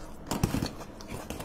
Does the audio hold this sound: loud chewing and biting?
yes